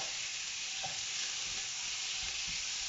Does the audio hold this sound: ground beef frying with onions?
yes